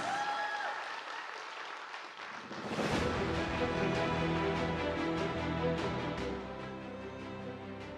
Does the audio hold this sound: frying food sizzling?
no